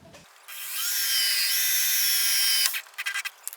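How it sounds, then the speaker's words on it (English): A power drill spins up and runs steadily for about two seconds with a high whine as a hole saw cuts parking sensor holes in a Toyota Highlander, then winds down into a few rough grinding bursts. "so we're going to drill the last two holes"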